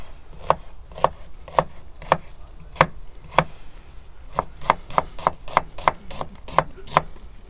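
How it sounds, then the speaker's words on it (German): Onion diced into cubes with a knife on a board, about a dozen crisp, evenly spaced chops close up, with a brief pause midway and no talk. "Und wir schneiden nun Zwiebel gewürfelt."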